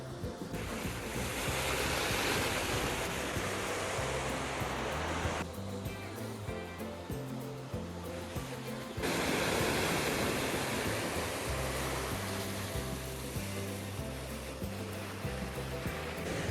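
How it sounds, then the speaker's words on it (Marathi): Water flows at a dam, a broad, steady rushing roar heard from nearby that keeps going for the whole stretch, with a brief dip in loudness midway and no voices. "आता इकडे असं पाणी चालू आहे वाहताना."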